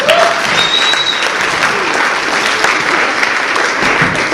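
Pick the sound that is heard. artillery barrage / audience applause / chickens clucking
audience applause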